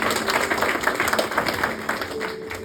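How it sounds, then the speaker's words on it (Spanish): Applause from a church congregation, a steady dense wash of many hands clapping throughout, fairly close and continuous with faint voices mixed in. "Aplausos para él."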